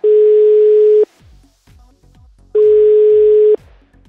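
Telephone call being placed: two loud, steady one-second tones separated by a longer pause with faint clicks, a clean repeating ring pattern on the line.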